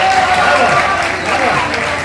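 An audience at a Hindi kavi sammelan in Obra breaks into loud, sustained applause, a dense clapping wash with a voice heard over it.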